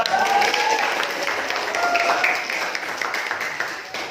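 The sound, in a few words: classroom applause for a student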